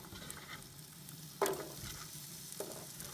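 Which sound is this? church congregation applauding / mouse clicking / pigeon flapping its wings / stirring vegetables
stirring vegetables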